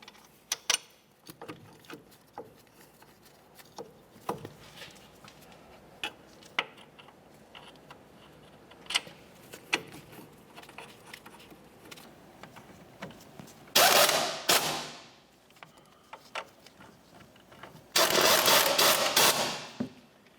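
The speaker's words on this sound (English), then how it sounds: "We'll start in each of our mounting bolts and bottom them out." Ratchet clicks driving in front brake caliper mounting bolts on a 2004-2006 Scion xB, quiet scattered ticks in a workshop, then two loud, harsh bursts of rapid ratcheting near the end.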